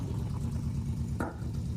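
V8 of a 1971 Chevrolet Corvette Stingray idling through its exhaust, a low, lumpy burble heard close and steady, with a short sharper burst just past the midpoint.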